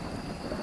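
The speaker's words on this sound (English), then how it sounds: "That's some thunder. Loud as hell." Thunder rolls through the Cursed Hollow map in the ghost-hunting game Phasmophobia as a steady, loud, low rumble filling the whole moment, with no voices.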